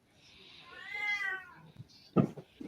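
A cat meows once in a clear, drawn-out, falling call, followed by a short thump and faint background noise.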